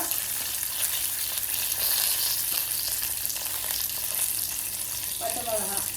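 Curry leaves, dried and green chillies and ginger fry in a pan of oil for coconut rice, giving a loud, steady sizzle throughout with faint stirring scrapes near the end.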